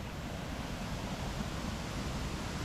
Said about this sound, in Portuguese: E aqui nós temos um salto, umas corredeiras.